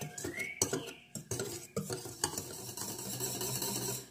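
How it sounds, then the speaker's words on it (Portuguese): A spoon stirs a chocolate topping mixture in a bowl with scraping, clinking strokes and a few sharp taps against the sides, fairly close and quiet, with no talk. "Agora é só misturar um pouquinho."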